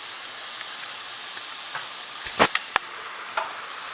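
Garlic and vegetables sautéing in a pan, a steady close sizzle running throughout, broken near the end by a few sharp clinks and scrapes of a utensil against the pan; no one speaks.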